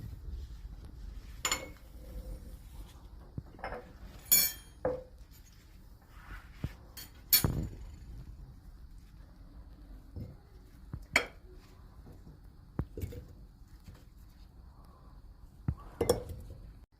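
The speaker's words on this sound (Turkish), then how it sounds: "Şimdi kavanozlarımı alıyorum." Glass jars are picked up and set down in a home kitchen while beet pickles are being made, giving scattered sharp clinks and knocks with quiet gaps between them.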